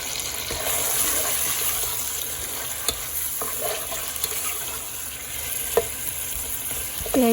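Onions fry in a pan with a loud, continuous sizzle, with a few sharp scrapes and knocks from stirring scattered through it.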